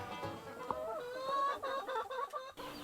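Chickens on a pasture farm clucking and calling in a busy overlapping chorus, close and fairly loud, with a brief sharp knock near the end.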